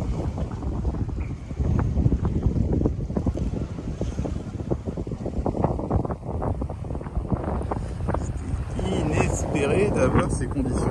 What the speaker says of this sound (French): Le vent, là, en réel, est monté